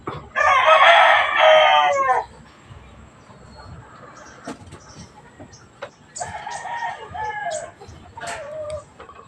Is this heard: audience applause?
no